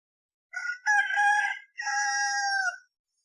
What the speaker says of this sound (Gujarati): કૂકડો બોલે